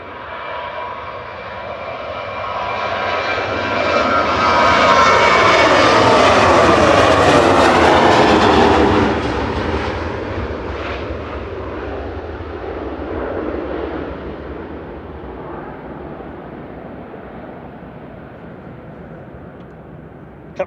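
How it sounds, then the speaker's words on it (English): A Ryanair Boeing 737-800, twelve years old, departing Manchester Airport, its jet engine roar swelling to a loud peak with a falling whine before fading slowly into the distance. "Ryanair departing next, flight 2141 to Krakow. EIESV is operating this, 12-year-old 737-800."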